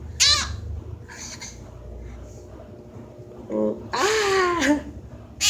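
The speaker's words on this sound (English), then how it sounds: "Today I'm going to show you guys my parrot, little parrot." A small pet parrot gives several harsh, raspy squawks and calls in short bursts, loud and close, with quieter gaps between them.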